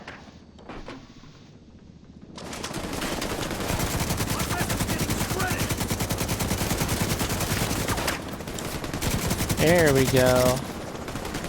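A player fires a gun in a video game, sustained rapid automatic shooting that starts after a short quiet lead-in and pours on steadily. Brief talk and other game effects come through near the end.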